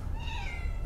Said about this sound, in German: Das ist unsere Katze.